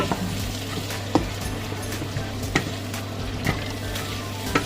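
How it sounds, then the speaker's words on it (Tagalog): Carrots and Baguio beans sautéed in a pan with cooked meat, giving a steady, dense sizzle with a few light stirring knocks at close range. "Carrots, at saka yung Baguio beans. Gigisa ko lang yan ng konti."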